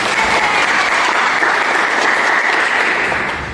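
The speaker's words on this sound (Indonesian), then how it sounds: "Oke, beri aplaus untuk." A classroom of students applauding during a lesson, steady loud clapping held for a few seconds before tailing off, with no talk over it.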